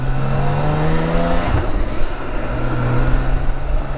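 Engine of a 2021 BMW K1600GTL motorcycle while riding, a steady droning hum with rising pitch as it accelerates, mixed with constant wind rush, near and loud throughout.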